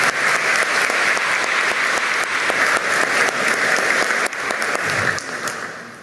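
A ceremony audience applauds steadily and loudly throughout, dense clapping that thins slightly toward the end, at a Peruvian national police decoration event marking the Day of the Defenders of Democracy.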